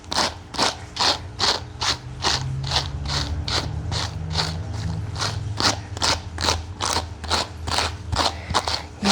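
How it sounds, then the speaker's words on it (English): Brush stroking through the matted fur of a Shih Tzu, close-miked, a steady rhythm of about two scratchy strokes per second, each a crisp rasping sweep over a low hum. "You want to hear the brush? Maybe if I put the microphone next to it."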